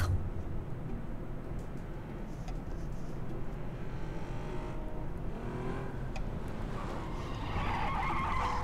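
Car in a video game arriving and skidding to a stop, a steady engine drone with a scraping tire skid building toward the end, fairly loud and without talk.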